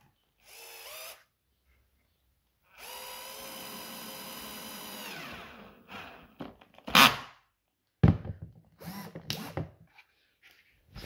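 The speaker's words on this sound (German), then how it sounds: "Jetzt schraube ich hier, also einmal vorbohren." A drill pre-drills and drives a screw into wood in a woodworking shop, with short whining bursts, a longer run that winds down, then clicks and knocking handling noises.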